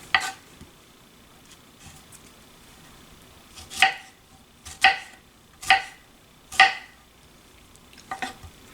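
A knife slices salad ingredients into thin circular rounds for an arugula salad, giving about five distinct, evenly spaced cuts against a board, close and fairly crisp, with quiet pauses between them.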